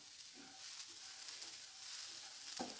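Garlic cloves, ginger and turmeric powder roast gently in a pan, giving a faint, steady sizzle with occasional soft stirring scrapes and a brief clatter near the end.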